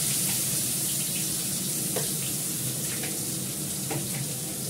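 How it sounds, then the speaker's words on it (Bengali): Onion frying in oil in a pan after prawns have been fried, a dense, continuous sizzle close by with a few faint scrapes, and no talking. "চিংড়ি মাছটা ভেজে নিলাম, আর একটু তেল দিলাম, আমি এর মধ্যে দেবো পেঁয়াজটা"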